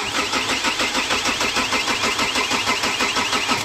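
A Chevrolet Captiva diesel that is hard to start cranks on the starter motor in a steady, fast rhythmic chug that stays loud and continuous without catching.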